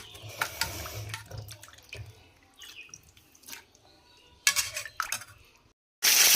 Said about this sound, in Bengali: মাংসটা আমি ভালো করে দেখো ধুয়ে নিচ্ছি